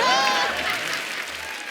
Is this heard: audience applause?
yes